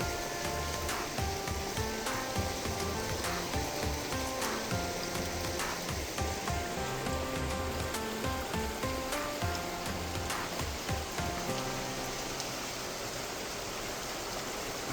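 Rainwater drips and trickles inside a glow worm cave in New Zealand, making a constant watery patter and splash with scattered distinct drops echoing under it, fairly even and close throughout.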